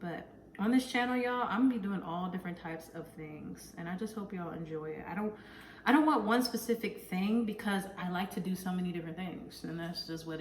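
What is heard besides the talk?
None of the usual background noises is heard.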